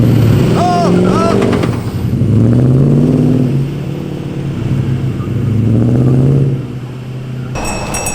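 A diesel truck and a gas truck rev hard in an outdoor tug-of-war, with loud, sustained engine roars rising and falling in pitch and tires straining for traction.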